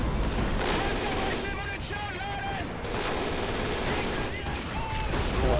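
Artillery firing at random in Men of War: Assault Squad 2 during a 1944 German bridge defense: a steady mix of booming shots and gunfire bursts in a busy battle bed, loud and continuous, with scattered whistling tones over it.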